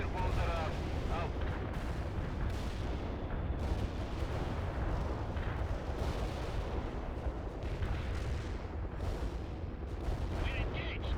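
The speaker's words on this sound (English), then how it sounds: "Cluster bombs are out." Cluster bomb strike in the World in Conflict war game, a dense, sustained barrage of overlapping explosions and crackling blasts rolling continuously for about eleven seconds, loud and close with radio chatter mixed underneath.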